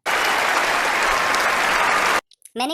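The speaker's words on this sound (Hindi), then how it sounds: "सब बच्चे इसको नीचे से तालियां बजाकर शाबाश दे रहे थे" Children clap together in a loud, continuous burst of applause that cuts off abruptly, followed by a short snatch of talking.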